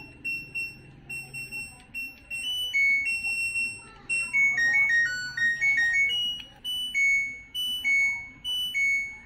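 An LG front-loading touchscreen washing machine, model LG1409HPPV, plays its electronic power-on chime, a bright stepped melody of pure beeping tones that rise and fall, moderately loud and close, over faint background noise.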